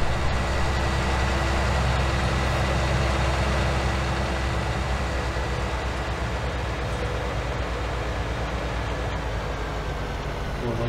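A tractor engine idles in Farming Simulator 19, a steady, loud, low mechanical drone holding level throughout with no change in pace.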